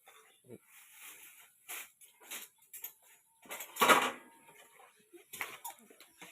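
Mushroom curry with luffa gourd is ladled into a bowl, the spoon clinking and scraping against the dish in short, scattered bursts close by, with quiet pauses between.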